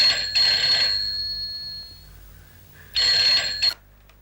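A telephone rings twice, a bright electronic bell tone in two separate bursts about two and a half seconds apart, with a fading tail after the first ring. The room is otherwise quiet.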